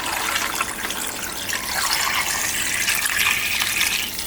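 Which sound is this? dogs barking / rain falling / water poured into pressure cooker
water poured into pressure cooker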